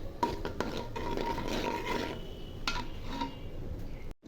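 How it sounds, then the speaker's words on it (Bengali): Panch phoron spice seeds hitting lightly heated oil in a pan for sour-spicy mango pickle, a steady soft crackle and sizzle broken by a few sharp clinks, with no talking. "তেলটা হালকা গরম হয়ে গেছে, এখন আমি পাঁচফোড়ন দিয়ে দিব।"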